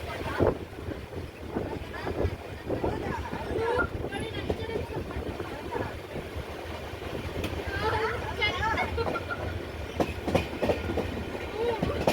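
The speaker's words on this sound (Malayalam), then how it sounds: "ട്രെയിൻ അങ്ങനെ കൊല്ലം ജംഗ്ഷൻ റെയിൽവേ സ്റ്റേഷൻ എത്താറായി" Riding aboard the Mysuru Express on the approach to Kollam Junction, a constant rolling rumble of the train mixes with gusty wind buffeting the microphone and occasional faint voices.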